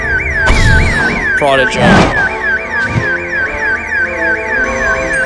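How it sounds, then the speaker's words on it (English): Alarm ringing in a jewel store in the video game Wizards Unite, a loud, rapidly warbling electronic wail repeating steadily, with a voice speaking briefly over it and some bursts of game noise. "Why is this alarm ringing in the jewel store?"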